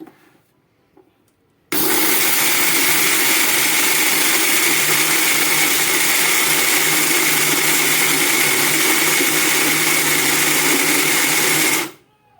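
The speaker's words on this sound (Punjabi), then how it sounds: "ਦੇਖੋ ਹੁਣ ਆਪਾਂ ਸਾਰਾ ਸਮਾਨ ਪੀਸ ਲੈਣਾ ਮਿਕਸੀ ਦੇ ਵਿੱਚ" A mixer grinder grinding nuts for panjiri switches on and runs at a loud, steady whir for about ten seconds, then winds down and stops.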